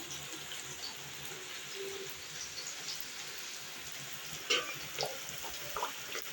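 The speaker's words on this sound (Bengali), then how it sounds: "এখন লুচিগুলো বেলে ভাজা শুরু করব" Luchi, puffed flatbreads, frying in hot oil in a village kitchen on a rainy day, a steady soft sizzle with a few sharper crackles and spatters near the end.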